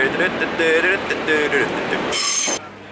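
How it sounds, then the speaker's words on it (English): A train pulls into a station nearby with a steady rumble, squealing wheels and brake whines, and a loud hiss near the end; a voice speaks over it. "Here's my train. Look at that."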